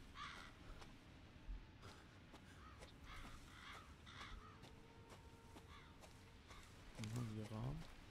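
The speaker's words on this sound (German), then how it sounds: "Die Raben." Ravens cawing in the horror game Resident Evil 7, a series of harsh repeated calls scattered over a steady ambient bed, with a louder, nearer burst of cawing near the end.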